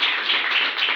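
A crowd at a business plan presentation show claps in a brief, even burst of many hands, with no voices over it.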